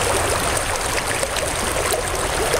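Water rushes steadily through a back-spiral gold sluice box, a continuous close, even flow with a bubbling, trickling texture and no talking.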